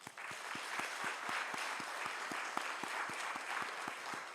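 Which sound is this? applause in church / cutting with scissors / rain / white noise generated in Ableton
applause in church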